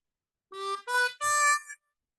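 A harmonica sounds the draw notes on holes 2, 3 and 4 of a major triad as three short, clear tones in quick succession, each breathy and sustained briefly, alone and close.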